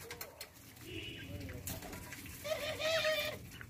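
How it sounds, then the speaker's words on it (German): A pigeon or dove coos a few times at fairly close range, with people talking quietly around it. "Also der Sasa ist ein wunderschöner Vogel."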